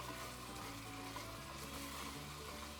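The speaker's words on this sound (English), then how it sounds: "And I'm going to stir it occasionally and just watch it." Thick raspberry paste cooking in a pan, a faint steady sizzle and bubbling with soft stirring underneath, continuous and close, no voices.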